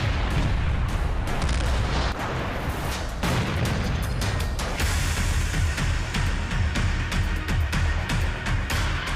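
Israeli bombardment in Gaza comes through as a dense, continuous roar of explosions and crackling blasts with many sharp cracks on top, loud and unbroken throughout.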